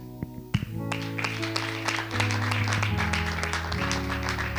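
Applause and cheering from a church congregation welcoming a new member, dense clapping with organ or keyboard chords sustained underneath, steady and full for several seconds.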